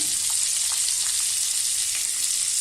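Whole red chilies, cinnamon, cloves and crushed cardamom sizzle and crackle steadily in hot oil for butter chicken, a close, continuous frying hiss with faint pops and no talking.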